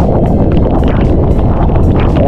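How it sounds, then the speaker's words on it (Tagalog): Strong wind during heavy rain roars and buffets the microphone continuously, a loud, low rumbling gust with no pauses. "ayan po yung hangin. Tinatangay tayo. Ang lakas."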